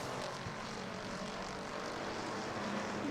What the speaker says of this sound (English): And here comes Chase Simons getting that heavy Chevy all wound up here down the back straightaway.